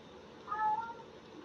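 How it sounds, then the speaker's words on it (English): A cat sitting indoors lets out a single drawn-out meow, moderately loud against a quiet room, lasting about half a second. "She's just sitting there meowing, Libra."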